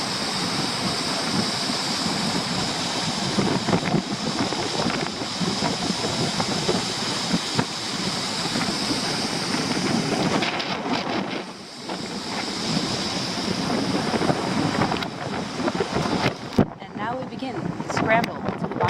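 Ocean surf and the waterfall at Alamere Falls at high tide make a continuous roaring wash of water, loud and close, with a brief dip midway and voices faintly present.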